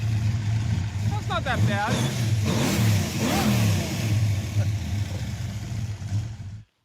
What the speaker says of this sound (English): I guess I need to fire up the exhaust so that you can hear it. And of course, I'll make it loud and violent, and accelerating.